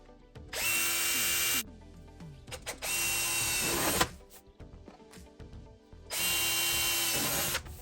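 A power drill bores rivet holes into an aluminum radiator panel for a Shelby Cobra replica build. Three long, steady high whines come with quieter handling noise in the pauses between them, close by and with no talk.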